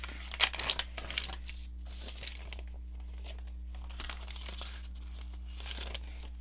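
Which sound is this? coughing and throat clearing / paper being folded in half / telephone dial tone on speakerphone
paper being folded in half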